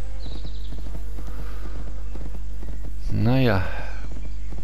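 Horse hooves clip-clopping in the video game My Little Riding Champion, a steady repeating rhythm over a constant low hum, with a voice speaking briefly and a rising-falling whinny-like call near the end.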